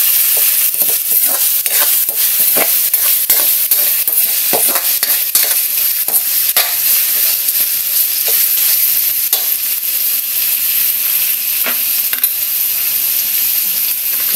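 Pork with garlic and onion sizzles steadily and loudly in a hot pan, with occasional scraping stirs breaking through the continuous frying hiss.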